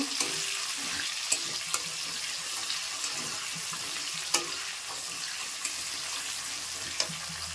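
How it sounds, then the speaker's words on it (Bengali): Onions frying in a spiced oil tempering with bay leaves for a meat curry produce a continuous hiss, marked by several light spatula taps and scrapes against the pan, and nobody speaks. "পেঁয়াজটা ভালো করে ভেজে নেব।"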